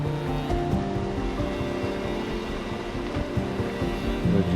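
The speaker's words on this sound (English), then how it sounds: "getting water from the river." Water rushes and gurgles nearby in a steady flow, with some low rumbling; no voices.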